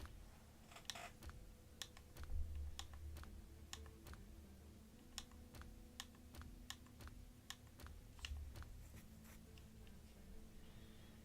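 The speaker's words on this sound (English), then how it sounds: "typing MTG into Google search with Sonic in front of it" Quick, irregular keyboard clicks as someone types a search into Google, sharp taps in bursts with brief pauses over a low hum, fairly close and moderately loud.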